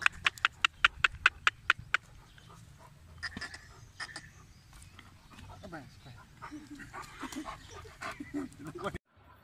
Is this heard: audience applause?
no